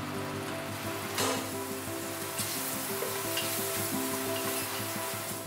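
Dried and fresh shiitake mushrooms cooking in a hot pan give a steady close sizzle, with scraping stir strokes and a brief louder burst of frying early on.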